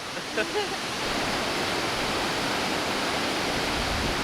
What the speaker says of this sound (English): as the waterfall is falling down, we're getting splashed